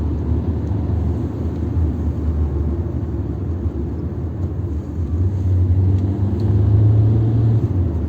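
A 2006 Opel Corsa C 1.3 CDTI diesel engine idles steadily with a low, continuous rumble, close by and unbroken, growing slightly louder toward the end.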